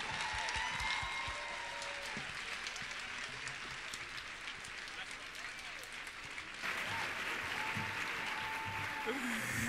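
Audience applause at the 2012 AWA awards show, steady broad clapping through the whole stretch with faint background tones, a brief dip near the middle before swelling back.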